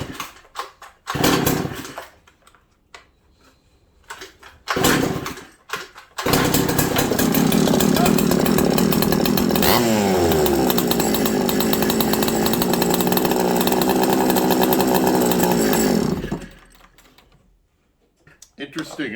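An old, long-forgotten Pioneer P40 chainsaw starts after short pulls and runs loudly up close for about ten seconds with a rough buzzing drone and a brief rev, then dies out; someone talks before and after it runs.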